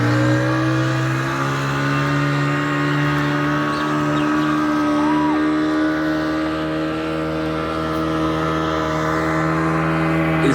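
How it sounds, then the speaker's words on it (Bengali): A speedboat on the Teesta river in the monsoon season, its engine droning steadily and loudly at a constant pitch, close and alone without talk. "স্পিডবোট,"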